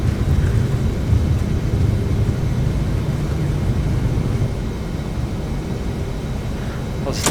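Boeing 717 airliner engines roaring steadily at takeoff power during rotation on departure from Amsterdam, a loud continuous rumble lasting throughout with a broad hiss above.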